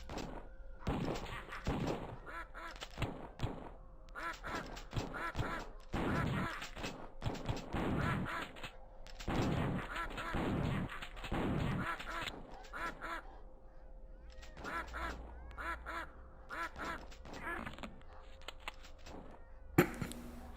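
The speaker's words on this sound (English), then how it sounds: "dealing with weird zombie ducks in the beginning of the game" Zombie ducks in a retro first-person shooter quack repeatedly amid game thumps and music, with no talk, and the quacks recur throughout.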